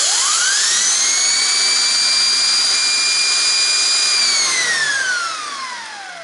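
A Shark Duo Clean NV801UKT vacuum cleaner, fitted with its hard-floor attachment, switches on with a rising whine, holds a loud, steady high-pitched motor tone, then begins to wind down as it is turned off.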